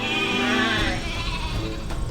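A sheep from a shepherd's flock bleats in one loud, wavering, drawn-out call that fills the moment on its own, close and clear.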